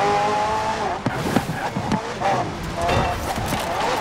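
A McLaren P1 with a twin-turbo V8 and electric motor assist accelerates hard in Forza Horizon 4. The engine note rises and shifts, with tire squeal and skidding up close and a faint voice underneath.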